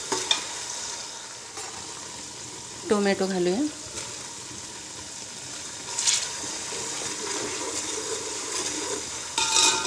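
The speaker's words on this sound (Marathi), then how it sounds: "सॉफ्ट होईपर्यंत आपल्याला परतून घ्यायचं" Tomatoes fried and stirred in a pan with ginger-garlic paste for chicken tahari: a steady, soft sizzle runs throughout, with brief scraping stirs and a short squeak near the start.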